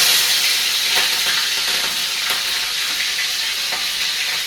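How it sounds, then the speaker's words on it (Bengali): Round slices of green chilli fry in hot oil for a radish ghonto, giving a loud, dense, continuous sizzle up close with small crackles and spatula scrapes through it, and no talking. "কাঁচা লঙ্কাগুলো যে গোল গোল করে কুচি করে রেখেছিলাম, এটা তেলে দেবো"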